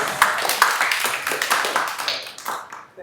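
An audience breaks into a short burst of applause at an intellectual property law advising session, with dense clapping that gradually thins out over about three seconds.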